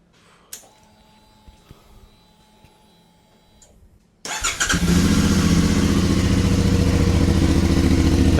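A CFmoto 450MT motorcycle on its stock exhaust: a few faint clicks in near silence, then the engine fires up and settles into a loud, steady, close running note for the rest of the clip.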